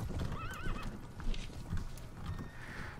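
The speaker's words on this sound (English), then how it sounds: "Getting rid of their horses is half the battle here." In the Mount & Blade: Prophesy of Pendor video game, horses whinny and hooves clip-clop in a quick burst of battle sounds, loud and close, with no talk over them.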